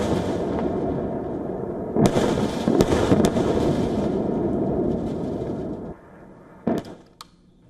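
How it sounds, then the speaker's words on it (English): Blasts from Israeli airstrikes on Hezbollah launchers and infrastructure in southern Lebanon: a sustained loud rumbling roar with several sharp cracks, then a drop and a few distant thuds as it fades. "the Israeli army released footage showing what it claimed to be strikes on Hezbollah launchers and terrorist infrastructure sites"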